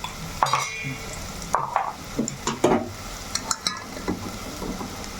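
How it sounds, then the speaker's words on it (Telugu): Onion and green chili masala is stirred in a frying pan, a low sizzle under a series of spoon scrapes and clinks against the pan, close and unhurried with no speech. "చక్కగా కలిపేసుకోవాలి ఈ మసాలా ఉన్న పచ్చి వాసన కూడా బాగా పోవాలంటే మనం ఇలా కలుపుకోవాలండి"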